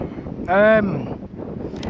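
Gusty wind buffets the microphone at an RC model airplane flying field, a steady rough rumble throughout, with a brief tonal whine near the middle.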